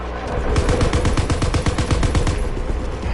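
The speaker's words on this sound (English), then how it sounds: "Incoming enemy artillery. Get to cover." Rapid, dense bursts of heavy gunfire and explosions from a video game battle on the eastern front, loud and continuous with no talking.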